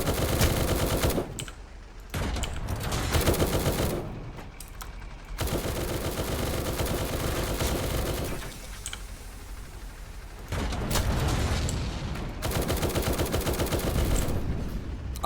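Bursts of automatic gunfire in the Roblox shooter War Tycoon, loud, close rapid volleys broken by short pauses, with some heavier blasts mixed in and no talking.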